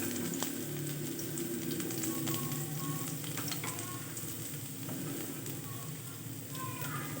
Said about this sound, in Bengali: কড়াই তেল বসিয়ে দিয়েছিলাম, তেলটাও গরম হয়ে গিয়েছে। এখানে এবার এই কোচানো রসুন আর পেঁয়াজটা একটু ব্রাউন কালার করে ভেজে নেব।